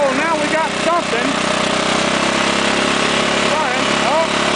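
A Craftsman lawn tractor engine runs with a steady, close mechanical drone and uneven revving, while a voice talks over it.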